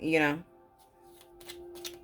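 A deck of tarot cards being shuffled, a short papery riffle up close at the start, followed by quieter light handling sounds and a faint steady hum.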